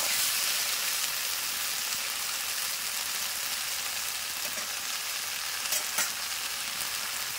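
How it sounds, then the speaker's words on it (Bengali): Spice masala for an egg curry fries in a pan at home, giving a continuous, close hissing sizzle with a couple of brief clinks from stirring near the end, and no voices. "তো দেখুন সব কিছু আমার ভালো করে কষানো হয়ে গেছে।"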